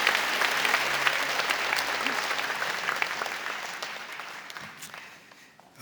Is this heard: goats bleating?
no